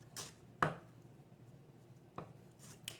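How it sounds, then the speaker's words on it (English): A knife chops an onion on a cutting board in a few sparse, crisp taps, one sharper strike early and quieter ones later, with a quiet kitchen between them. "when I start chopping, I get a nice uniform size"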